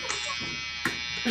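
An electric shaver buzzes with a steady, faint high hum heard throughout, with brief muffled knocks and faint background voices.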